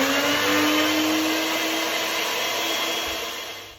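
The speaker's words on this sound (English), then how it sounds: "And you blend them until they are smooth." A NutriBullet blender runs at a high steady whine while blending fennel pesto, loud and close, with its motor pitch sagging slightly and trailing off toward the end.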